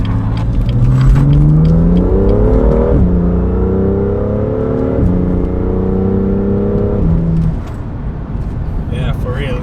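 BMW M2 with a DCT tune driving in comfort mode, its engine droning steadily up through the gears with quick crisp shifts, loud and close from inside the cabin while people talk over it.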